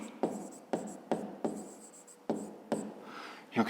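Pen strokes on paper while writing out a fifth-grade maths exercise come as a series of about eight short scratchy bursts in uneven rhythm, close and quiet.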